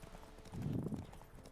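Horse hooves gallop across the ground in The Witcher video game, a steady, loud clip-clop rhythm that swells in the middle and carries over soft background ambience.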